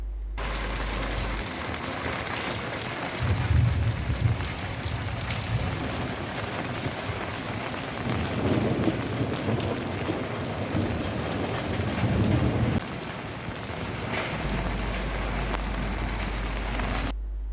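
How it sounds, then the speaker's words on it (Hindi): A thunderstorm brings steady heavy rain on surfaces, with low rumbling swells that rise and fade across the long stretch, and no voices. "गरज चमक के साथ बारिश हुई"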